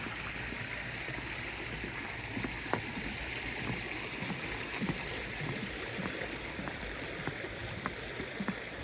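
A creek flows steadily after a heavy overnight storm, giving a faint, continuous rushing hiss with small splashy ticks throughout.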